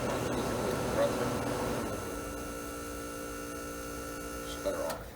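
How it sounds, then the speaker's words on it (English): A 1960s Emerson Quiet Kool air conditioner compressor runs with a steady, low mains-like hum, with a brief faint voice murmur near the start. "here's one more compressor"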